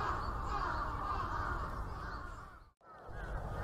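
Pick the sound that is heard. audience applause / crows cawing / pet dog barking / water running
crows cawing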